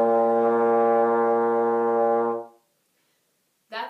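A sustained trombone note played with a firm, tight embouchure, steady and full-toned for about two and a half seconds before cutting off, followed by a brief burst of something else at the end.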